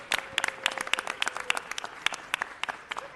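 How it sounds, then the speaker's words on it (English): A small group at a city council meeting claps for a team, sparse and distinct individual hand claps landing irregularly, close and crisp, with no talk over them. "Give them a round of applause."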